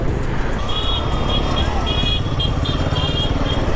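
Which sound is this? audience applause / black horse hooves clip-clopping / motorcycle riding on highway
motorcycle riding on highway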